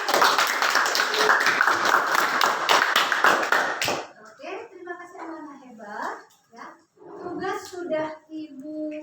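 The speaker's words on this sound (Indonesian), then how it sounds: "Tepuk tangan dulu." A room full of schoolchildren in a classroom clapping loudly and steadily for about four seconds, then the applause stops and a voice speaks.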